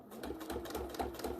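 A sewing machine running a long straight stitch along the edge of a small bag, a steady close mechanical whir with a fast rhythmic chatter throughout.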